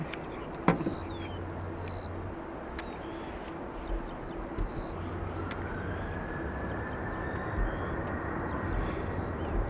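A Ryanair jet departing Dublin Airport for Gatwick rumbles at a distance, a steady broad roar with a rising engine whine, faint and continuous under outdoor ambience with a few clicks.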